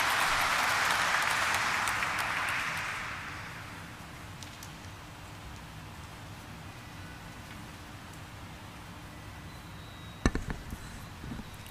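Audience applause at the stock-market listing ceremony of Apeejay Surrendra Park Hotels Limited: a dense burst of clapping for about three seconds that fades away into a quiet room, followed near the end by a few sharp knocks.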